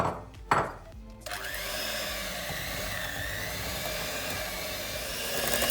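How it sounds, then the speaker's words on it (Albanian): After a couple of soft knocks, an electric mixer starts up and whirs steadily through mascarpone cream for tiramisu, a continuous close motor buzz that rises slightly toward the end. "Dhe do ta përzim me mikser."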